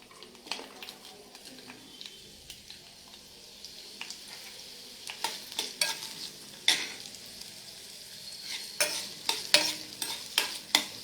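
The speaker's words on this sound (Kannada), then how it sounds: "ಅದಕ್ಕೆ ವೆಜಿಟೇಬಲ್ಸ್ ಹಾಕೊಂಡು ಒಂದು ಸೈಡ್ ಅದು ಫ್ರೈ ಆಗ್ತಾ ಇರುತ್ತೆ." Julienned carrots fry in hot oil with a soft, steady sizzle while a spatula scrapes and stirs in quickening bursts toward the end, near and fairly quiet, without speech.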